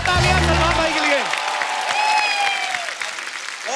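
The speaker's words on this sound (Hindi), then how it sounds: "एक बार जोरदार तालियां सलमान भाई के लिए।" Applause from a comedy show audience breaks out loud and dense, with a voice speaking over the opening, then fades gradually over a few seconds.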